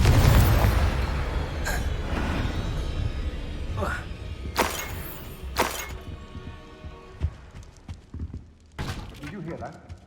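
Fiery Confringo spell blasts in Hogwarts Legacy bang out as several sharp explosive cracks and thuds amid combat sounds, with voices calling out spells over the action.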